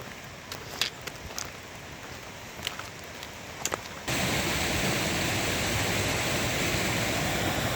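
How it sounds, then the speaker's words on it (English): Near Standing Bear on the Appalachian Trail, a creek rushes in a steady broadband wash that swells abruptly louder midway, following quieter footsteps and rustling. "There's a creek that flows all the way down from there."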